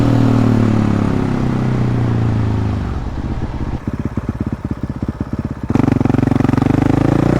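KTM 450 SX-F dirt bike ridden along a wide dirt road, its single-cylinder engine loud and close, droning steadily, then thumping in pulsing bursts before surging back up to a strong rev.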